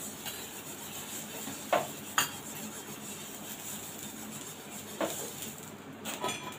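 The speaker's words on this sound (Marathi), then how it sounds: "एकदम जुन्या पद्धतीने मी नारळाच्या किसीने पॅनला तेल लावते." Grated coconut dipped in oil is rubbed across a metal dosa pan, a soft steady scraping hiss broken by a few sharp metallic clinks and taps, quiet and close with no talk.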